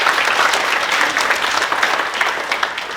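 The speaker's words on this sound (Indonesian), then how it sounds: "Kasih tepuk tangan dulu semuanya" An audience at a student motivation training session breaks into steady, dense applause, loud and sustained throughout.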